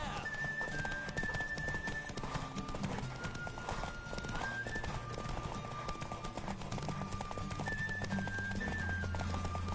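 Rapid, even hoofbeats of a racing horse in The Witcher 3 carry on throughout, close and loud, with neighs and a sustained musical backdrop underneath.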